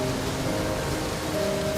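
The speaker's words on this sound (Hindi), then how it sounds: "तेज आंधी के साथ बारिश शुरू हो गई।" Steady downpour with stormy wind in a Hindi children's cartoon, a constant wash of rain noise with faint tonal music lines running beneath it.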